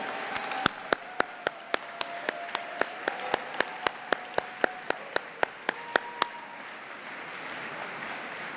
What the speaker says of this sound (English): Please, everybody, a round of applause for the chefs that made it happen.